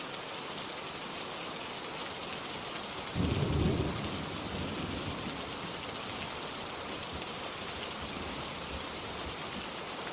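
Steady rain falls on surfaces throughout, with a short low rumble of thunder rolling through partway in, then the downpour continues alone.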